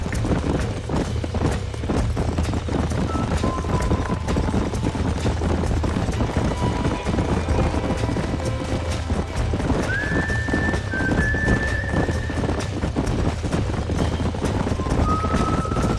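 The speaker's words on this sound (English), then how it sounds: "These are fine horses." Horses gallop in the Red Dead Redemption video game, hooves clip-clopping in a steady run with whinnies rising over a continuous dense bed of sound.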